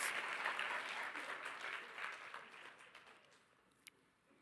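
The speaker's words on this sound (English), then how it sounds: "can we give a round of applause for her dress?" Audience applause for a woman's dress at a Furious Flower event, a dense wash of clapping that starts loud and steadily fades over a few seconds, ending with one sharp clap.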